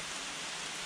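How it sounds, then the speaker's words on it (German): Steady rain pours down during a thunderstorm on a mountain expedition, a dense, even hiss of drops on surfaces that fills the whole moment without any voices. "Wir hocken jetzt im Regen, über uns gewittert."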